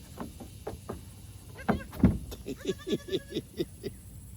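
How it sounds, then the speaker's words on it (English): Several goats bleat in quick succession, fairly close, with a louder cry partway through and some faint background voices. "Oh, little goats, little goats."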